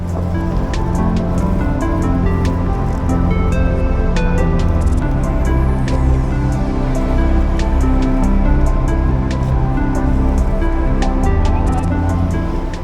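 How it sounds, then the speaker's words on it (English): Water surges into a Panama Canal lock chamber, a loud, steady rushing roar with churning turbulence that holds unbroken and up close throughout. "The amount of water and the speed with which it fills is amazing."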